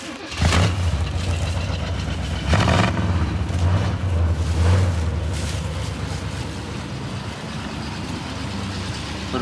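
An old Chevrolet C20 pickup truck engine cranks several times, catching in bursts, then settles into a rough, loud rumbling idle.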